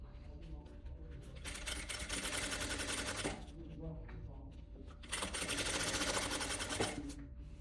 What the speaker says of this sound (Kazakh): енді қалтаны толықтай айналдырып тігіп шығамыз.